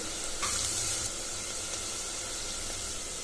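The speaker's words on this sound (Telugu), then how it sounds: "ఇప్పుడు ఆనియన్ కొద్దిగా ఎర్రబడే వరకు కలుపుకోవాలి" Sliced onions with a pinch of turmeric fry and sizzle steadily in a pan while being stirred, a continuous close hiss with soft scraping, no voices.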